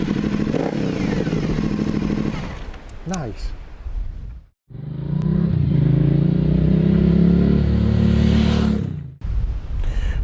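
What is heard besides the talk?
motorcycle engine revving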